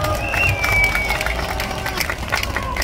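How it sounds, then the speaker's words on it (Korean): A crowd at an outdoor rally gives steady applause mixed with background chatter and murmuring voices, moderately loud and sustained for a few seconds. "박수로 쳐주시기 바랍니다."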